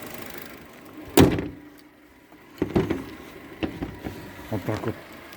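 A 2018 Ravon R2 with automatic transmission: a car door shuts with a single firm thud, followed by quieter clunks and knocks from inside the car, with a faint engine hum underneath.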